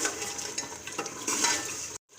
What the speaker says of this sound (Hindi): इसे अब अच्छी तरह से भून लेंगे।